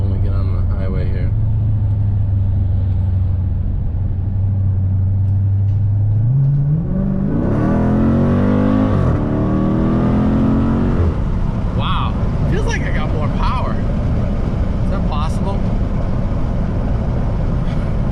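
A Dodge Challenger 392 with Dynomax Race Bullet mufflers accelerates onto a highway, its deep exhaust rumble climbing steadily in pitch through a rising rev, then settling into a loud steady drone with brief voices over it.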